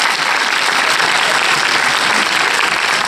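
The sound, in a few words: audience applause at film premiere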